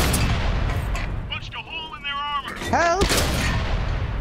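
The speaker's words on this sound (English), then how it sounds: "Artillery's got us in the sight." Artillery fire and shell impacts in the tank game World of Tanks, loud broadband booms filling the scene while a player shouts over them.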